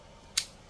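A single crisp snip of scissors cutting into a paper cup mold around a bar of homemade coffee soap, short and close in a quiet room, with a faint second snip at the end.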